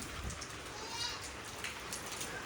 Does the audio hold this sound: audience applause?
no